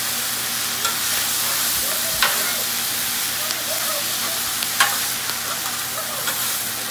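Beef for an Asian-style dish sizzling steadily in a hot pan with steamed rice on the side, a constant close hiss broken by a few sharp scraping stirs, with no talking.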